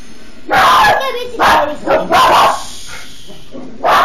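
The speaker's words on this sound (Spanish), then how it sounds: "Perdón, se escuchan unos ladridos," A dog barks several times in loud, sharp bursts at an uneven pace, close by, with short gaps between the barks.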